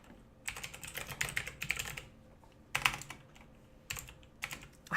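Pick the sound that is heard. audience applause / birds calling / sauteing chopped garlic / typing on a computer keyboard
typing on a computer keyboard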